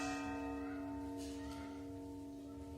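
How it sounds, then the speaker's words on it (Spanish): Church bells ring with sustained, overlapping tones that hang in the air at a steady, fairly quiet level, with no voices present. "Creo que estas son las últimas campanadas."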